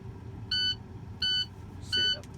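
A truck's low air pressure warning buzzer going off during a CDL air brake test in the cab, with three short, evenly spaced electronic tones over a low idling rumble.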